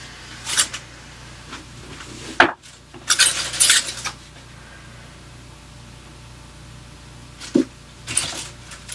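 Bleach powder and developer being mixed in a bowl, with several short bursts of scraping and clinking from a utensil against the bowl, close by, separated by quiet gaps with no speech.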